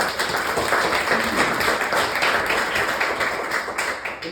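A town hall audience in Osceola claps steadily, a dense, continuous round of applause filling the room, close and loud throughout with no talking over it.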